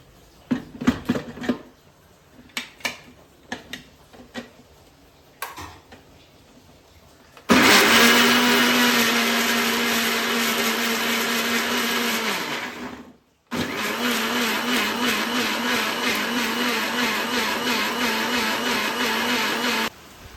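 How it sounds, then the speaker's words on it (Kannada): A kitchen mixer jar grinding pineapple pieces without water for jam: scattered knocks and handling first, then a loud steady whirring motor runs, stops briefly and starts again for several more seconds. "ನಾವೀಗ ಮಿಕ್ಸ್ ಜಾರಿಗೆ ಹಾಕಿ ಕಡಿತಾ ಇದ್ದೇವೆ"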